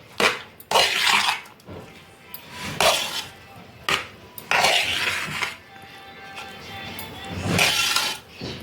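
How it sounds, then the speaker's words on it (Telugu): Mango pulihora rice is stirred in a metal pot with a spoon, giving bursts of scraping and clinking that come and go, close by. "మొత్తం మిక్స్ చేసుకోవాలి."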